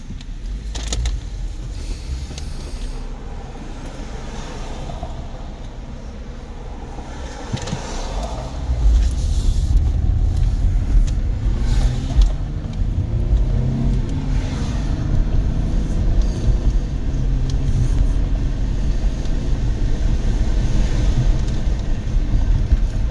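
Interior of a 2012 Cadillac CTS on a short test drive, with steady low road and engine rumble that grows louder after the car gets moving, plus faint clicks and rattles from the cabin.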